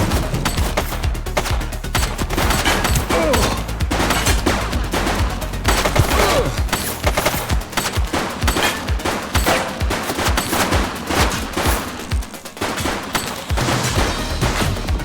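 Sustained automatic gunfire and rapid shots in the police video game The Precinct, loud and dense fusillades with sharp cracks throughout, no talk.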